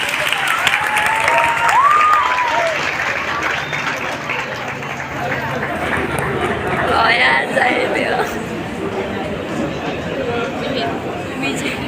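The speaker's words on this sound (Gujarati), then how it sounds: "ખરેખર બહુ જ જોરદાર તાળીઓ થઈ જાય." An audience at a school farewell claps continuously, a dense, moderately loud wash of applause mixed with crowd chatter and some voices talking over it.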